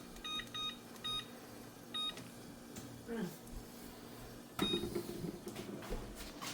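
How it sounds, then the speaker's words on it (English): Several short electronic timer beeps ring out in a home kitchen while a timer is set during biscuit and gravy cooking, with clustered bleeps early, a cooking background murmur, and a clatter and voice near the end. "Set timer for 12 minutes."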